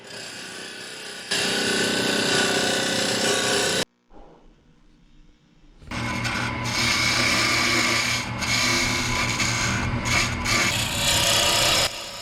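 Wood is turned on a lathe with carbide bits while a scrapwood holiday ornament is shaped, producing loud scraping and rasping bursts separated by a brief quiet pause as the cutting stops, then resumes.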